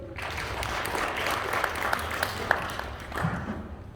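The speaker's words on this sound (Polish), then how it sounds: "I brawa dla Julci." Steady, dense applause from an audience at a school pledge ceremony for first-year pupils, filling the whole moment at moderate loudness with no pauses.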